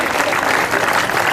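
Steady applause from an audience at a race championship event in Chiniot, filling the whole short moment at an even, loud level with no break.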